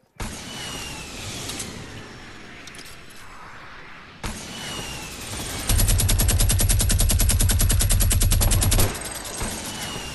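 A minigun fires in a video game shooter: scattered gunfire and noise at first, then a loud, sustained, rapid buzzing stream of shots lasting about three seconds before it cuts off.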